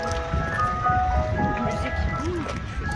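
An ice cream van plays its tinny melodic jingle over steady street noise, the tune running continuously across the moment with voices talking alongside.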